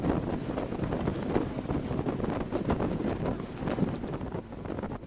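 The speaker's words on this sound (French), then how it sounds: "La barque à moteur, je vais vous faire écouter le bruit quand même," A motorboat runs on the water during a trip through Mexico and Guatemala, its engine a steady, even drone mixed with heavy wind buffeting the microphone, with no talk.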